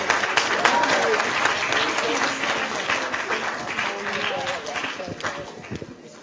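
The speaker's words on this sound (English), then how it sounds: "Give her another hand clap." A crowd at a women's empowerment motivational event claps and cheers loudly, dense continuous applause with excited voices mixed in, fading slightly toward the end.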